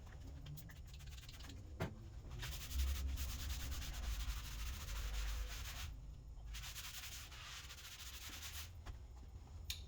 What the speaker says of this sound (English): You guys already see me wipe it off.